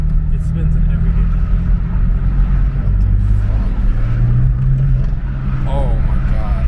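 A BMW M4 engine roars under heavy throttle as its wheels spin without traction, a loud sustained drone that rises in pitch, with voices talking over it.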